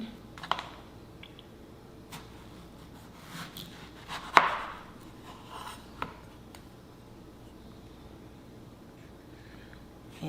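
A knife slicing through a juicy mango gives a few sparse, soft cuts and clicks, with one sharper knock against the board partway through, in a quiet room.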